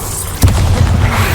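An Incendio fire spell cast in a video game lands as a sudden whooshing burst, followed by a loud, sustained rumbling roar of flame.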